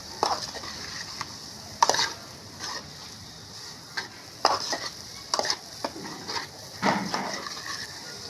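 Soya chunks (meal maker) are stirred and fried in a pan with eggs, a low continuous sizzle broken by repeated scraping strokes of a spoon against the pan at an uneven pace.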